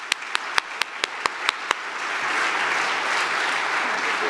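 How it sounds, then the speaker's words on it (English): A few sharp, evenly spaced claps open, then a full audience breaks into sustained warm applause at an academy talk event, close and steady to the end. "Please give a very warm round of applause to our very dear cooperation partner"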